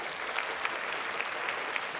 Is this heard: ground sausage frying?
no